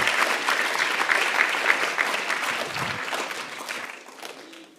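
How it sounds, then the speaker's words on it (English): A hall full of youth delegates at a boy child sector parliament gives a sustained round of applause, a dense wash of clapping that holds steady for several seconds and then slowly tapers off. "I would like you to give a round of applause to yourself for being honorable members."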